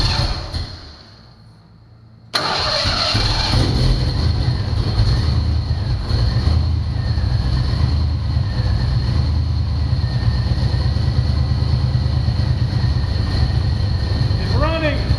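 A 1990 Ford Mustang 5.0, left sitting for over four years, suddenly fires up after a quiet moment and settles into a loud, steady, rumbling idle close by, with voices faint under the engine.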